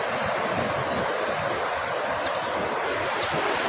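Seawater surges during a tsunami in Indonesia after a magnitude 7.7 earthquake, a dense, continuous roaring wash of rushing water and wind, loud and unbroken throughout with no speech.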